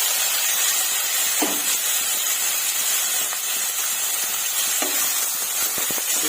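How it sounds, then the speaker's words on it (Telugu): Two medium chopped tomatoes fry in a pan with curry leaves for chole masala curry, giving a steady close sizzle and hiss with occasional soft stirring clinks throughout. "టమోటాలు కూడా ఫ్రై చేసుకున్నాము"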